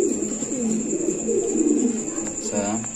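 Lahori pigeons in a cage on a pigeon farm give low, throaty coos that roll on steadily and close by, with a voice briefly joining near the end.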